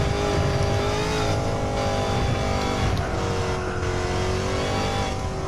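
A Dodge Challenger SRT Demon in a racing video game roars loudly and continuously as it accelerates, the engine droning steadily throughout with no talking.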